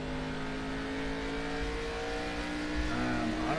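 Race cars run laps at Phoenix in a 50-lap race, one car loose at the rear: a continuous droning engine roar with steady tonal whine and a slight rise near the end, loud and unbroken.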